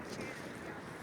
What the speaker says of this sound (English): it is so fucking windy that I'm like legit nervous